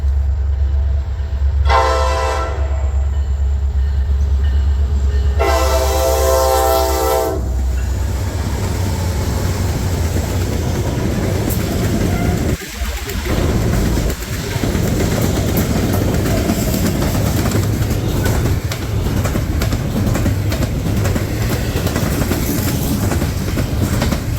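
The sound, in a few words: old and modern NS freight locomotives passing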